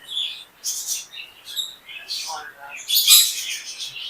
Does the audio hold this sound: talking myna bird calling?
yes